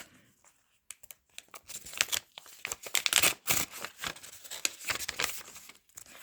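Paper surprise packet being unwrapped by hand, with close, quiet crinkling, rustling and tearing in irregular bursts after a brief silent start.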